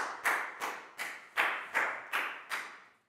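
Schoolchildren in a classroom clapping for a classmate: seven distinct, fairly close claps or slaps in an even rhythm, each with a short decay, then silence.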